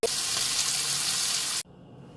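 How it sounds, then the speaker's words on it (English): Bacon frying in a pan, a loud continuous sizzle lasting under two seconds before cutting off abruptly to near silence. "So I'm just going to start by placing this bacon in this pan."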